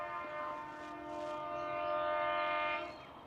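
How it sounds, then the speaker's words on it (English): A cane train horn sounds from a distance, a long steady multi-tone blast that swells slightly louder toward the end before cutting off, heard alone in an open outdoor setting. "Cane train further down."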